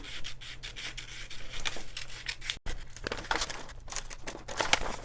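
Scissors cut through paper along a coat collar pattern for a tailored wool coat, giving a faint, close, steady rasping crunch with a brief pause midway before the snipping resumes.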